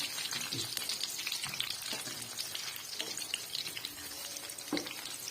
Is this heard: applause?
no